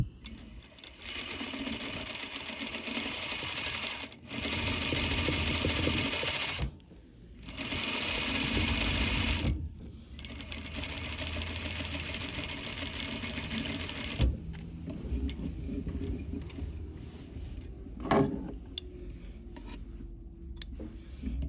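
A sewing machine stitches a welt seam at a half-inch allowance and standard stitch length, running in long steady whirring bursts separated by brief pauses, then giving way to quieter handling clicks and rustles near the end.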